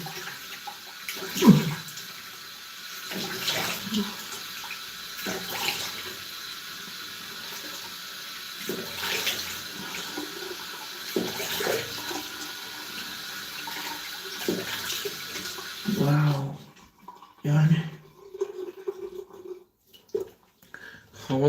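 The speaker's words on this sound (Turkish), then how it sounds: "Şimdi bir soğuk suyla durulayıp" Cold tap water runs into a sink as a face is rinsed after a shave, a steady splashing stream with a few louder splashes and gurgles near the end, heard alone without talk.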